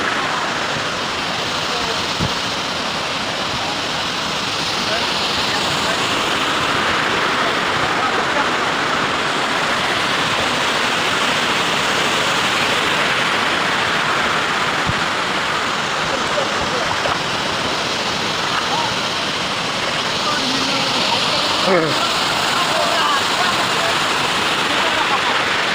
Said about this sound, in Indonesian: Air terjunnya masih tinggi sekali ke atas guys, tapi saya berada di tingkat paling bawah.